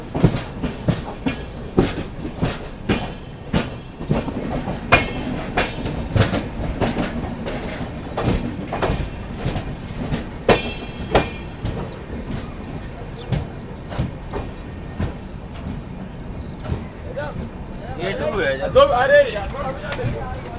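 The 12450 Goa Sampark Kranti Express rolls into Ratnagiri station with rhythmic clickety-clack of wheels over rail joints, steady and near, slowing toward the end as a voice speaks briefly.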